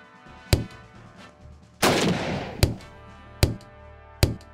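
Gunshots in the VR shooter Operation Warcade on PSVR with an Aim gun controller: five sharp, loud shots spaced about a second apart, one followed by a longer rumbling burst, with no talk.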